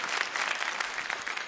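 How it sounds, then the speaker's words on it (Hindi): Audience applause from a crowd at a fair-themed show, a brief, dense burst of clapping that stays even throughout. "माजिद जी के लिए ढेर सारी तालियां।"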